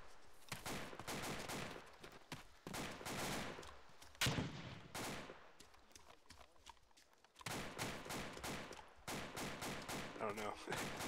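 Gunfire in the Arma video game during a UnitedOperations multiplayer mission, rapid dense volleys of shots crackling almost continuously with a brief lull midway, while players talk over it.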